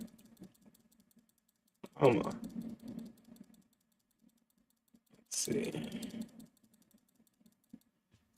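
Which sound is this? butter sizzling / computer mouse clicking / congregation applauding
computer mouse clicking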